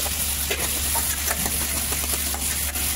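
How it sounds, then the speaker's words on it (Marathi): Chopped onions and tomatoes sauté in olive oil in a kadai, giving a steady, close hiss and sizzle throughout with faint crackles and no voices. "आता मी टाकलेले आहे चिरलेले कांदे, चिरलेले टमाटे। ह्याला मी घेणार आहे आता परतून।"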